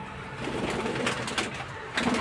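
Caged pigeons coo softly and continuously at close range, a low murmuring burble with a slightly stronger call near the end, no voices present.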